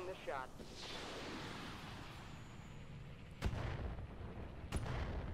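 Missiles fire from a mech in the Roguetech video game, with several booming launches and sharp blasts over a rumbling battle bed, two strong impacts standing out late; a voice talks near the start.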